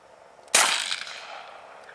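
A single sharp report from a Ruger PC Carbine pistol-caliber carbine fitted with a red dot sight, loud and close, with a ringing decay trailing off over the next second.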